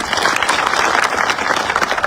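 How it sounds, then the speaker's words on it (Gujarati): A large crowd of women and farmers claps loudly at a rural farmers' dialogue meeting in Khatdi, Surendranagar, a dense sustained burst of applause, near and lively, with faint voices mixed in. "એમના માટે જોરદાર તાળીઓ થાય"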